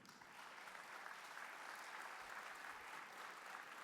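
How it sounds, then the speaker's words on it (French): Faint, even applause from an audience at a French inclusion event with the national amputee football team, a soft continuous wash of clapping from a distance. "On est bien là, vous pouvez vous applaudir"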